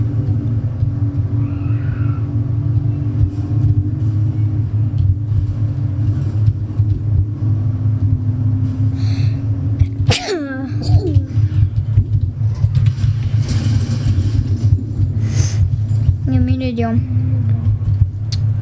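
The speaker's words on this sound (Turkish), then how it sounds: "Arabam gidiyor." A car engine in Fortnite drones steadily with a low rumble throughout, occasionally revving, while voices talk over it at times.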